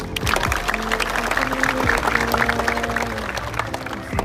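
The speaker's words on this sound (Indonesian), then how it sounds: "Tepuk tangan." Applause from an audience at an Indonesian ceremony honoring a young woman from Papua on earning her master's degree, a steady dense patter of clapping that fills the whole stretch, with a low hum beneath.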